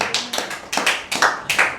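Rhythmic congregational clapping at a church sermon, several crisp claps in a steady beat, close and fairly loud, with no talking.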